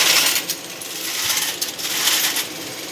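An old newspaper typesetting machine, fed with lead, runs with a rapid metallic jingling and clinking like falling coins, bright and close, swelling and easing in small bursts.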